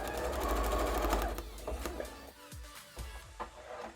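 Sewing machine stitching sparkly gold fabric, a loud rapid mechanical whir at first, then slowing into a few separate thumping stitch bursts with gaps between them.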